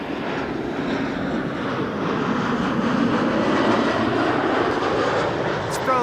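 Passenger jet at Amsterdam Schiphol Airport rumbles in a broad, steady roar that holds loud throughout, with faint voices underneath.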